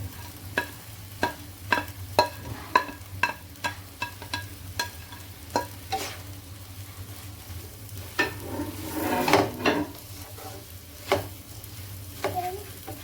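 Okra frying with masala, cumin and pomegranate seed in a pan, giving a steady low sizzle broken by repeated sharp stirring clinks and scrapes, with a louder bubbling burst near the middle.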